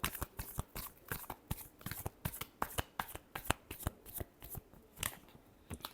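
Tarot cards are shuffled by hand in a quick, irregular run of soft, close riffling slaps and flicks, continuing throughout at low volume.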